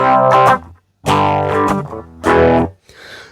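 An electric guitar played through a standard phaser effect pedal, three loud strummed chords with a sweeping swirl, each ringing briefly before cutting off, with a faint noisy tail at the end.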